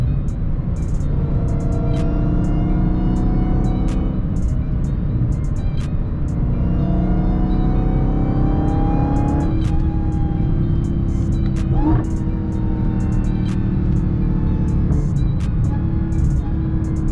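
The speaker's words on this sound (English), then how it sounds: "Supercharger sounds so crazy." A supercharged SRT Durango Hellcat engine accelerates with a loud, continuous deep roar and rising supercharger whine, climbing in pitch over repeated pulls, heard from inside the cabin without talk.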